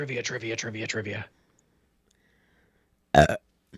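A burping sound effect played from a soundboard, one short loud belch heard alone after a pause that follows a stretch of voiced, belch-like sound.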